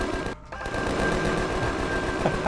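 A gun fires rapid, continuous bursts in the Empyrion game, a dense machine-gun rattle that plays loud and close with a brief gap near the start.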